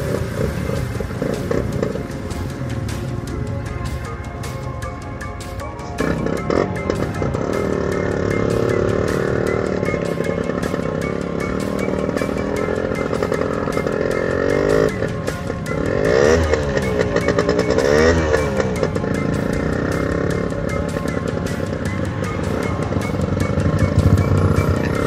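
A 1988 Yamaha RX100 two-stroke motorcycle is kick-started and runs, a loud close buzzing, crackling engine that rises and falls through revs for about twenty-five seconds.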